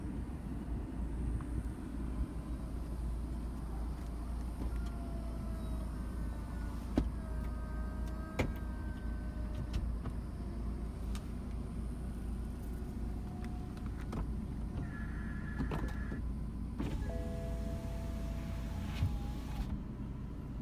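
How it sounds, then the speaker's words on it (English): Soft top of a 2016 BMW 228i convertible rising under a steady low electric motor whir, with faint whines, clicks and latch sounds near the end, heard close and uninterrupted. "So now I'll go ahead and put the top up"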